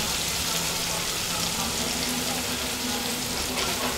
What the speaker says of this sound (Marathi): मी मिक्सरमध्ये बारीक केलेला जो मसाला आहे तो घालून चांगला परतून घेतलेला आहे